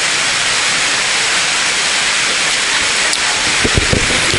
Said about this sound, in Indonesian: Niki hujan rahmat.